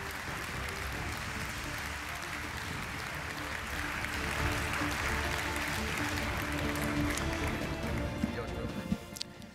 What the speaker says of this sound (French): Veuillez me rejoindre sur scène sous un tonnerre d'applaudissements.